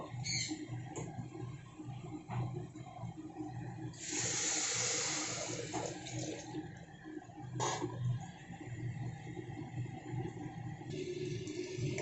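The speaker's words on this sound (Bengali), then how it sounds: "এবারে আমি এখানে জল দিয়ে দেবো, যতটা চাল তার দ্বিগুণ জল দিয়ে" Water pours into a pressure cooker pot of rice, twice the volume of the grain, as a steady splashing flow with a louder gush partway through and a low background hum.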